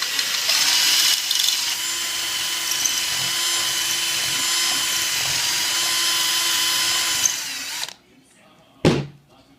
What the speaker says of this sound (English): we're going to use a 13/64 drill bit.